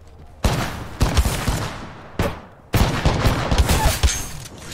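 Rapid automatic gunfire in an Apex Legends match, in loud, close bursts of dense shots with brief gaps between them, and no voices.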